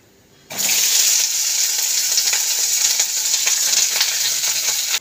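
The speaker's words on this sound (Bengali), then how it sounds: "এবার ভিন্ডিগুলো দিয়ে দেবো।" Okra (bhindi) drops into hot oil and bursts into a loud, steady crackling sizzle that holds close and constant for several seconds, with no talk.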